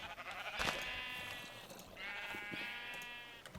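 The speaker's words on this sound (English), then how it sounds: "Nifty little sheep farm" Sheep on a video game sheep farm bleat twice, two drawn-out wavering calls at moderate distance against a faint background, with no talking.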